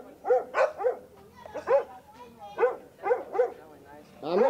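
Several guard dogs at a home in Puerto Rico bark and yip in a series of short bursts, fairly close, with a voice talking among the barks.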